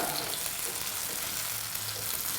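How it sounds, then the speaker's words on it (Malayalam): Small cut pieces for a Kerala pickle sautéing in hot oil, giving a steady, even sizzle that fills the clip with a brief louder clatter at the very end. "ചെറിയ കഷ്ണങ്ങളായിട്ട് മുറിച്ചിട്ടിട്ട് ആ എണ്ണയിൽ വഴറ്റിക്കൊണ്ടിരിക്കുകയാണ്"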